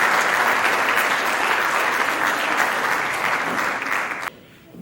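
A hall audience at a village New Year's event applauds four speakers with loud, dense, sustained clapping that cuts off abruptly near the end.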